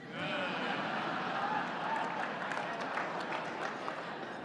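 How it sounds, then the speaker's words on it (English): An audience gives brief, tepid applause, a thin, fairly faint patter of scattered claps with murmuring crowd noise and no single clap standing out. "That was a tepid applause."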